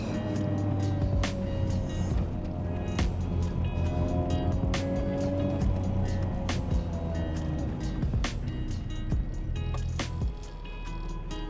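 A Honda Prelude engine revs hard on the clutch to around 4,500 RPM, a steady loud drone with rising and falling tones, broken by sharp clicks and knocks throughout.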